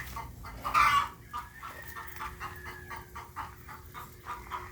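Rhode Island Red laying hens cluck in a farmyard, with one louder squawk near the start followed by a steady run of soft, rhythmic clucks close by.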